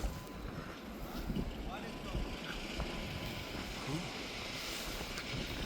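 Steady winter wind in Canada rushes and buffets the microphone throughout, a constant broadband roar with faint voices underneath, snow all around.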